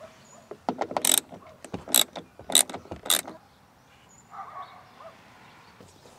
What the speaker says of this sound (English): inside there we can see a 10mm bolt, which we need to remove